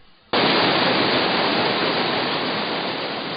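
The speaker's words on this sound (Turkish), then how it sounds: "Gördüğünüz gibi bir dere akıyor burada." A mountain stream in the upper reaches above villages near İnegöl rushes loudly and steadily, a dense unbroken hiss of flowing water that starts abruptly and stays close and strong throughout.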